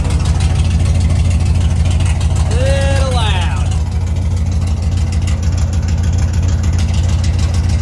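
A Dodge W350 dump truck with a damaged muffler runs loud and rough, a heavy low rumble throbbing steadily from close by for the whole stretch, with a brief voice sound partway through.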